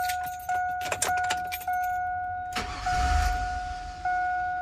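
A truck engine cranks and catches, then stumbles and fails to stay running as a restart is retried, with keys jangling and sharp mechanical clicks over a steady electronic tone, close up and loud, no talk.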